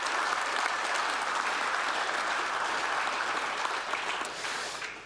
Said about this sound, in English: What about a round of applause for all 5 finalists?